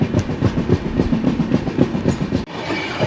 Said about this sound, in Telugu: 5 మినిట్స్ హాల్టింగ్ తర్వాత అయితే డిపార్ట్ అయిపోతుందండి ఈ బెల్లంపల్లి నుండి